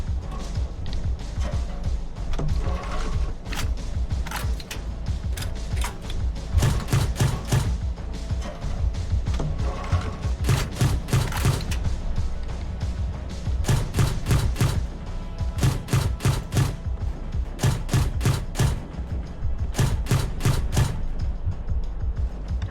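Repeated heavy cannon shots from a tank in the video game GHPC, loud booming blasts fired in clustered bursts over a constant low engine rumble, heard from outside the vehicle.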